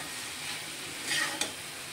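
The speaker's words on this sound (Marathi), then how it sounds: "हे आता तेलामध्ये दुधी भोपळा भाजून झालेला आहे।" Bottle gourd pieces sizzle softly in hot oil in a pan, a steady low frying hiss with a brief stirring scrape near the end; quiet and close, no speech.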